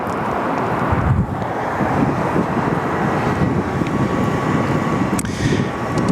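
A large airliner rolls down the runway at Sydney Airport after landing, a loud broadband engine roar with heavy wind buffeting the microphone, sustained throughout, with a couple of sharp clicks.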